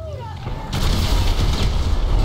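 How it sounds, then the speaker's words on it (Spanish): A big explosion goes off in GTA V, a sudden heavy boom followed by a sustained loud rumbling roar with debris crackle, after a quieter stretch with faint background tones. "Voy a detonarlo a la cuenta de 3"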